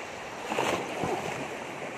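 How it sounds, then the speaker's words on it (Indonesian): Surf washing in along the beach at Kehuripan, where people net fish at the shoreline; a steady broadband wash with a couple of swelling surges, moderately close and unbroken, with no voices. "ombaknya lumayan"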